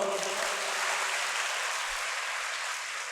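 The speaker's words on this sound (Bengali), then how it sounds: "এটা হাতে তালি দিবেন আমার জন্য" An audience claps at a motivational talk, giving a dense, even burst of applause that lasts about three seconds at moderate distance and fades slightly at the end.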